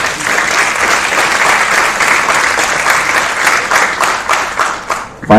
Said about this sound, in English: We can give an applause for them as well.